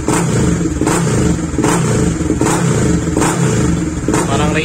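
A Suzuki Raider GTR 150 motorcycle fitted with an MVR1 racing ECU revs repeatedly in short throttle blips, its loud close engine note rising and falling in a steady rhythm with no talk over it.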